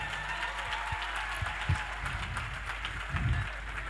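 An audience claps and applauds at a live gathering, a soft, diffuse patter of many hands heard faintly at a distance, with some low rumble and murmur beneath.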